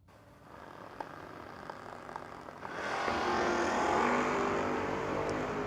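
Drag-strip launch of an F-body Mopar against an F-body GM at a No-Box 660 shootout, a distant engine drone swelling into a loud, sustained roar of racing engines roughly halfway through.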